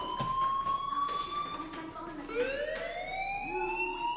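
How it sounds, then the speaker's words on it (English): A fire alarm rings in the Life Is Strange video game, a steady electronic tone with rising and falling sweeps that continues throughout at a moderate level. "Hey, do you hear that fire alarm? That means you should be outside."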